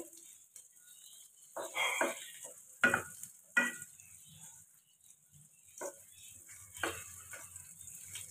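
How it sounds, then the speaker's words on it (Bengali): Potatoes sizzle softly in a hot pan, broken by several scraping stirs of a spatula against the metal. "আলুগুলো এখানে ভাজা আমার হয়ে গেছে, আর একটুখানি ভাজতে হবে"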